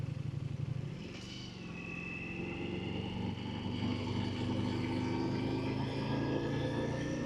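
A superbike motorcycle engine droning while being ridden, with a steady rising tone that climbs in pitch as it accelerates, plus wind rush, continuous and fairly loud throughout.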